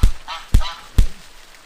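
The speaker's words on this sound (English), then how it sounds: "Yeah, it is Karate Duck!" Duck mob in the Minetest video game honking three times in quick succession, sharp loud calls spaced about half a second apart with no talk over them.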